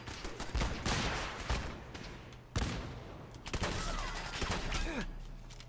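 Gunfire in Fallout 4 arrives as loud, close volleys of rapid shots, several separate bursts crackling over a continuous game backdrop.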